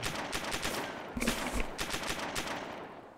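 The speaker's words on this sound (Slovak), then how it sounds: "Niekto tu strieľal." Gunfire in the survival video game DayZ, a rapid burst of several shots followed by a few more cracks, somewhat distant and muffled against a steady noisy background.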